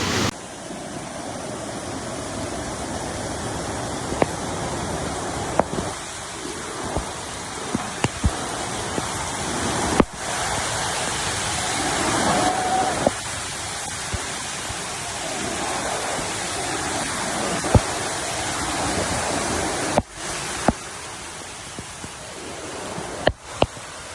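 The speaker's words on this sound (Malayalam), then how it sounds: "കുറച്ച് ഡേഞ്ചറായി മറിഞ്ഞു വെള്ളം മറിയുന്നുണ്ട്" Rushing floodwater churns through a swollen hill river at Karuvarakundu, a continuous dense roar like a waterfall, steady and loud, with occasional sharp knocks and no talking.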